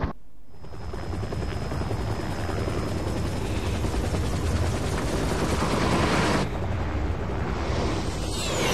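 Helicopter in the video game Parasite Eve, a loud, steady rotor roar filling the whole stretch, cutting briefly and then resuming with a slightly different texture near the end, with no talk.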